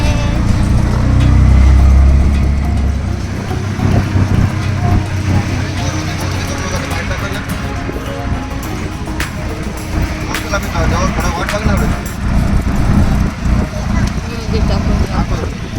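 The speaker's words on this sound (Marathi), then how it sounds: "आता हे जे तुम्ही बघताय ना हे ट्रॅफिक" Busy road traffic rumbles continuously, heard from inside a rickshaw, engines droning and passing close by, with people talking over the noise.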